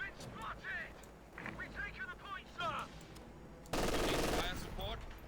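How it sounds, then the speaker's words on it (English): MG42 machine gun bursts in the Company of Heroes 2 video game, rattling out loudly under in-game voices and battle sounds, with one heavy sustained burst near the end. "MG42 does get us half burst there, doesn't suppress the infantry section."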